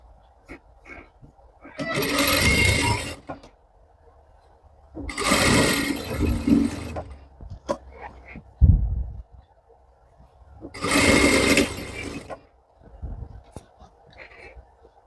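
Sewing machine stitching trousers, three bursts of fast mechanical whirring of a few seconds each, separated by quiet gaps with light handling clicks and taps.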